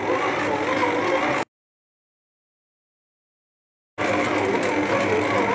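A stand mixer kneads bread dough for homemade rolls at low speed, giving a steady mechanical whir and rattle that stops abruptly into silence for a few seconds, then resumes at the same level.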